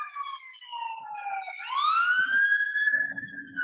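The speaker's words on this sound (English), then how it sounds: "I hear fire sirens in the back." A fire engine siren wails in the background, its pitch sliding down and then sweeping up into a long rising tone, fairly faint and distant, with a little low rumble near the end.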